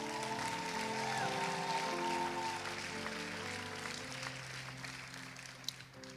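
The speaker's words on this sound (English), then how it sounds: "I'd hear a better clap than that." Church audience clapping after a presentation, a moderate spread of applause softening toward the end, with sustained organ or keyboard tones underneath.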